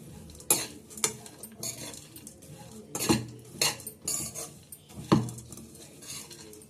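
A spoon stirs and scrapes ingredients frying in a pan over a low flame, with sharp metallic clinks every second or so over a faint sizzle, close and without talking.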